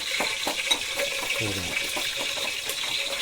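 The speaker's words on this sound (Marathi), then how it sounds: "हे बघा आवाज तुमका दाखवतो फोडण्याचा आवाज त्या सगळे मसाले भाजून घेणार" Whole spices crackle and sizzle in hot oil for a tempering, a close, continuous hissing fry with a brief voice murmuring faintly behind it.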